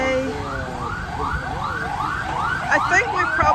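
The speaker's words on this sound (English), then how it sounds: "that's an ambulance" An ambulance siren wails in rising and falling sweeps along a road route between Calicut and Mangalore in India. It sounds fairly close and sits over steady engine and traffic rumble.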